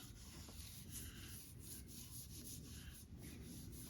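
Steady hand rubbing of a finish on an old wooden rocking chair, a continuous soft scuffing friction with gentle back-and-forth surges, close and even throughout with no talking.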